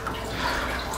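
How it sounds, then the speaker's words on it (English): Water runs in a steady hiss and splash as a pan holding hot dogs is filled, a continuous close pour without pauses. "fill up your pan with water and to place your hot dogs in there"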